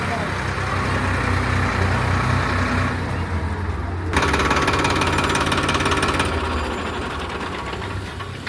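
A Farmtrac 60 tractor's diesel engine runs steadily throughout, a low throbbing rumble with a slight shift in pitch midway, close and fairly loud.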